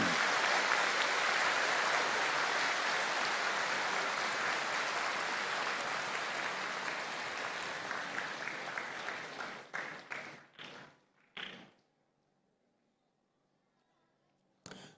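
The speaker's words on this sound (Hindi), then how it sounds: "तो सभी लोग अपने अपने पितरों के लिए एक बार जोरदार तालियां बजा दें।" Loud, sustained clapping from a large audience at a religious gathering, a dense wash of applause that thins into scattered claps near the end before falling to near silence.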